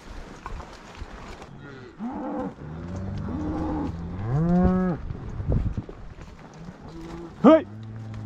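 Cattle on a mountain cattle drive let out several drawn-out moos, one loud and close, with a shorter bellow near the end, amid outdoor background noise and a voice.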